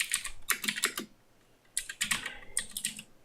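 Git commands are typed on a computer keyboard in quick close bursts of key clicks, with a short pause between runs of typing.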